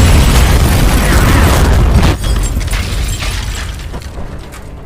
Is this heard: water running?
no